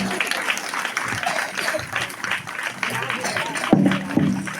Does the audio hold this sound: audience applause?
yes